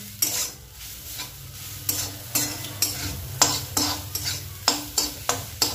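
Bamboo shoot curry being stirred with salt in a pan, a spoon scraping in a steady series of sharp strokes every half second or so over a low continuous hum, close and moderately loud.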